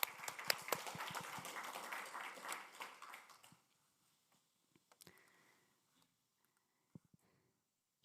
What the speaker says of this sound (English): Big applause for Sergio